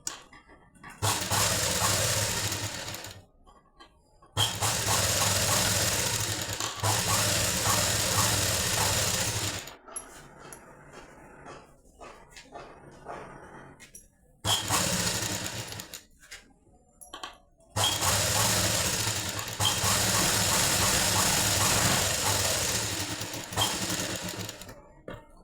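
A sewing machine stitches a blouse lining in long, loud whirring runs, stopping for gaps of quiet with faint handling noise between bursts.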